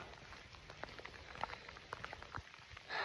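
Rain in Yellowstone patters faintly in scattered drips and taps on nearby surfaces over a soft, steady hiss, with no voices.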